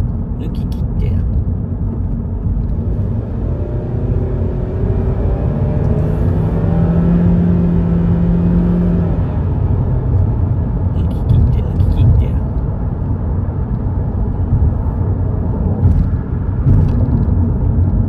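A car's engine rumbles and climbs in pitch as it accelerates to overtake on a two-lane road, the rising revs swelling in the middle while a voice talks over the steady cabin drone.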